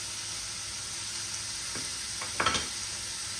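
Beef stroganoff sizzles in a hot pan over medium-high heat, a steady faint hiss running throughout, with a couple of soft spoon scrapes as it is stirred near the end.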